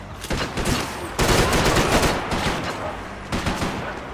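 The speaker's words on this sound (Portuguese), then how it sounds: "Continue atirando! Continue atirando!" Gunfight in Max Payne 3, with loud sustained bursts of automatic fire that stop briefly before resuming, all close and dense.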